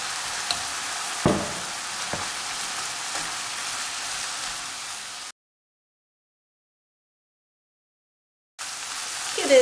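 Minced meat and onion frying together in a pan, a steady loud sizzle with occasional stirring scrapes, broken by several seconds of silence before the sizzling resumes.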